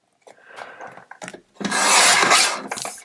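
Card stock being cut down to size for a handmade card, a dry rasping scrape in short strokes that swells into a louder, sustained cut near the end, close up with no talk.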